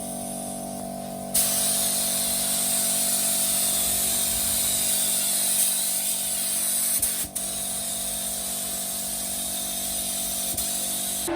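A spray gun hisses steadily and loudly for several seconds, laying a light grab coat of candy paint on a BMW E36, cutting out briefly once, over a low constant hum.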